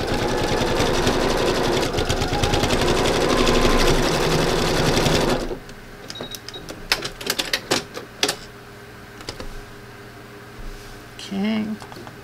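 A sewing machine stitching thread-painting on a beach landscape runs loud and steady for about five seconds, then stops, leaving scattered clicks and light handling noises.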